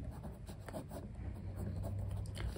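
A math solution written out by hand, close and quiet pen strokes scratching in short rhythmic bursts against a faint steady hum.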